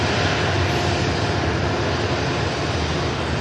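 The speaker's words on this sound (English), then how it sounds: "There's the beautiful Q8 Neo just about to taxi past us at the incredible runway this block." A Q8 Neo airliner taxis past at Manchester Airport, a loud, steady engine roar and whine filling the whole clip without pause, close by and unbroken, with no voices.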